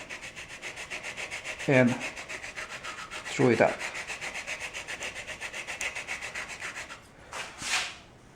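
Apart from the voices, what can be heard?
sanding block rubbing wood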